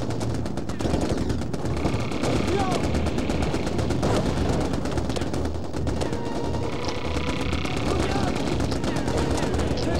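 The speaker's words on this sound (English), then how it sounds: "Get in the machine gun, quick!" Rapid machine gun fire crackles throughout in the video game Mercenaries, with dense bursts and chaotic battle noise that continue without a break.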